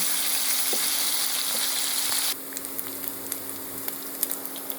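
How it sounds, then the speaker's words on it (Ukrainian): Meat sizzles steadily in a hot pan over medium heat, a close crackling hiss that drops quieter partway through, with occasional small pops. "на середньому вогні просмажу шмаргольське м'ясо"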